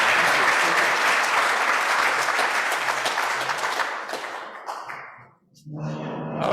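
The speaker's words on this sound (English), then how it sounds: "Let's give our newest member a round of applause." Rotary Club members and guests at a civic meeting applaud a newly inducted member, with sustained dense clapping and some cheering that fades out near the end before a voice comes in.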